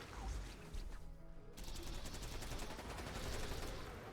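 Rapid sniper rifle gunfire from the Limitless mod of a video game, a dense run of sharp shots after a brief pause, loud and continuous with no talking.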